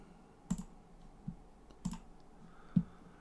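Typing on a computer keyboard: four sharp, sparse key clicks at irregular intervals, close and fairly quiet against a low background, with no speech.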